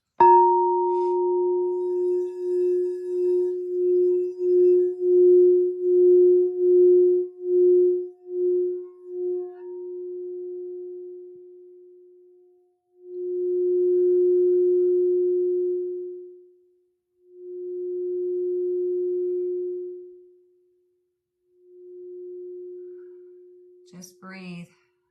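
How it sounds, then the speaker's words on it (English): A sound bowl during a relaxation session: struck with a bright onset, then a pure sustained tone pulsing as it is rubbed, fading and swelling again in several long rings, clear and close in a quiet room. "just let the sound bowl do its thing"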